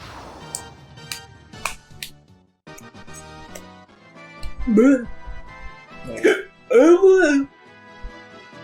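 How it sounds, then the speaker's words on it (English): A person hiccups while playing Final Fantasy, with several short sharp gulping sounds spaced apart and mixed with some voiced sounds, over faint game background and light clicks. "I got the hiccups."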